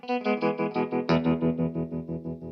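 Electric guitar with two Franz pickups plays a short series of picked notes, then a louder strummed chord that rings out with a slightly driven, chorused tone.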